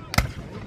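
A cannon fires once at a military show, a single sharp loud boom with a brief rumbling tail, fairly close.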